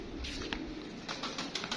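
Soft pigeon coos and light fluttering, fairly quiet and close, repeating irregularly over a low background hum.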